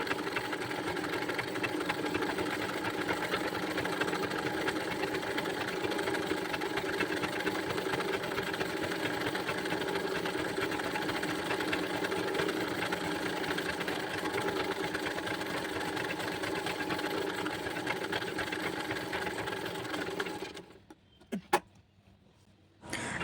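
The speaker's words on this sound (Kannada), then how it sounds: "ನೋಡಿ ಈ ರೀತಿ ಫೋಲ್ಡ್ ಮಾಡ್ಕೊಂಡು ಸ್ಟಿಚ್ ಮಾಡ್ಕೊಂಡು ಹೋಗುತ್ತೆ" A zig zag sewing machine stitches folded fabric in a continuous, even mechanical hum for about twenty seconds, close and steady, then stops, leaving brief clicks and quiet handling.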